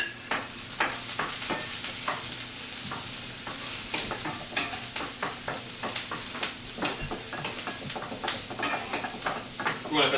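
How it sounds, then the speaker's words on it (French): Vegetables sautéing in a hot pan while being stirred, a dense, continuous sizzle broken by many quick scraping and tapping strokes of a utensil, loud and close throughout. "on a fait sauter un petit peu nos légumes"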